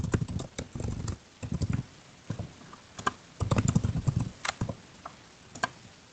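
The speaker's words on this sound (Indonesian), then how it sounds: "Saya ketik lagi ya." Computer keyboard typing in bursts of quick, crisp key clicks separated by short pauses, close and fairly quiet, with no talking.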